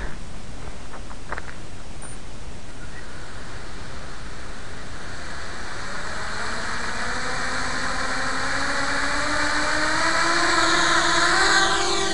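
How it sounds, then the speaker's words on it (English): The motors of an HK 250 racing quadcopter spin up for liftoff, a steady whine that rises and brightens over several seconds and grows louder near the end, heard alone against broadband hiss. "Well, liftoff is okay. I'm at about a little above mid throttle."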